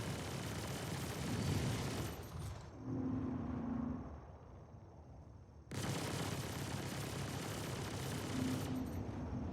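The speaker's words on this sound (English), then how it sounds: "We got some alien missiles on us" Alien missiles launched at the player in a video game make a dense, rumbling barrage of blasts that drops away briefly, leaving a low hum, then surges back at full loudness.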